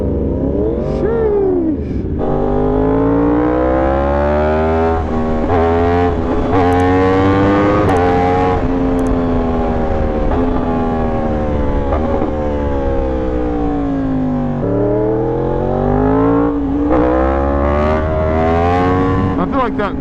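A 2025 Yamaha R1 sport motorcycle engine revs hard while being ridden, its loud, steady high-pitched wail rising and falling with throttle changes throughout, close and continuous, with wind noise underneath.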